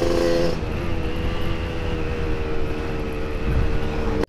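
A Yamaha RX King two-stroke motorcycle with a daily-use ported engine, ridden on a test run: a loud, steady buzzing engine drone that holds throughout and cuts off abruptly at the end.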